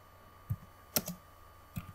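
Typing on a computer keyboard while writing text in Embird 2015 embroidery software: a handful of sparse, quiet key clicks, heard as a few separate taps and short pairs, with a faint steady hum underneath.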